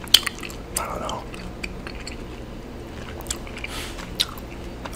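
Chewing gum is worked close to the mouth in an ASMR recording, with soft, wet clicks and squishes spread irregularly over a quiet background.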